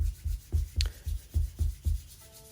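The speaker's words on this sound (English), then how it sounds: "So the hands are getting warm here, rubbing all the fingers together" Hands rubbed briskly together during a post-meditation qigong self-massage, a dry swishing friction in about eight close, steady strokes with no talk.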